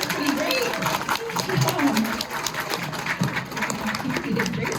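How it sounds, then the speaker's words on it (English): An audience at a dolphin presentation applauds for Ranier the dolphin, dense clapping running throughout beneath a presenter's loud amplified voice. "And a round of applause for Ranier."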